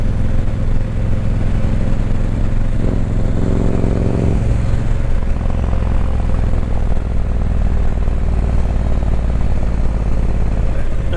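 A Harley motorcycle engine runs steadily throughout, a loud continuous low rumble with a shifting throb midway, heard from the rider's position on a road trip along the River Murray.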